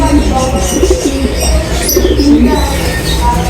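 Black King pigeons in a loft give soft, low repeated coos, close by against a steady background hum, with faint other birds around.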